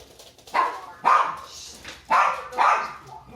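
A dog barks four times, loud and close, in two pairs of sharp barks with short pauses between them.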